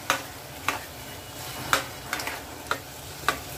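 Tomatoes cooking with fried potatoes and string beans in a pan, a steady low sizzle punctuated by about six crisp taps and scrapes of a utensil, close-up, no voices.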